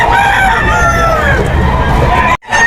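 Kelso gamefowl rooster crowing at a busy pet market, one loud, close, drawn-out crow with rising and falling harmonics that cuts off abruptly, over a murmur of market chatter.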